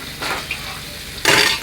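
Eggplant, chili and plenty of garlic hitting hot oil in a pan, a loud close sizzle that flares twice, with faint stirring clatter between the bursts.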